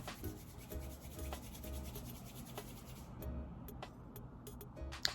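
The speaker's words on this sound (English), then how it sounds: "you're going to take the bottom of your lock and then rub it between your hands like this" A synthetic faux loc is rubbed back and forth between the palms, producing a soft, close, repetitive brushing friction with a few faint clicks and no talk.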